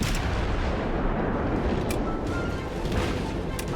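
Naval gunfire from warships loosing armor-piercing shells in World of Warships, a dense, continuous rumbling barrage with a few sharper bursts standing out, loud and steady throughout with no pause.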